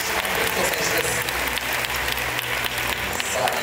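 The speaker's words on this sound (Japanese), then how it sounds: "大きな拍手でお客さん再びご登場いただきました" Spectators in the hall at a national men's bodybuilding championship awards ceremony clap loudly as a winner returns to the stage, continuous crowd applause over a low hum of music and the venue.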